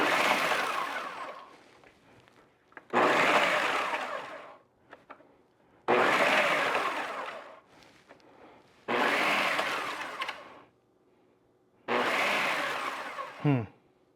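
Blender chopping ingredients for banana cheesecake, five loud pulses of a few seconds each separated by short pauses, with faint rattling between bursts.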